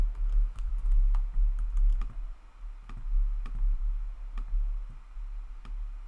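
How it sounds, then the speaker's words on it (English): Someone types text into a website builder on a computer keyboard, a close run of light, uneven key clicks and taps over a low background rumble. "I'm just going to take some text and type it in"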